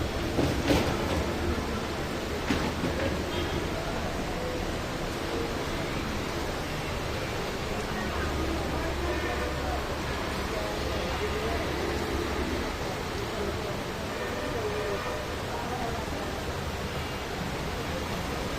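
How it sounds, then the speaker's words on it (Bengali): Heavy rain pours steadily in Rupganj Gausia, a dense, even hiss that holds at one level for the whole stretch with no pauses or breaks. "প্রচণ্ড পরিমাণ বৃষ্টি হচ্ছে।"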